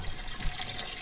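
Clear water flowing steadily at a house building site, a continuous soft rushing and trickling with no voices over it.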